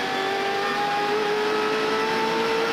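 A race car engine at the 1998 Bud Shootout hums steadily and climbs slowly in pitch as it gathers speed, loud and close throughout.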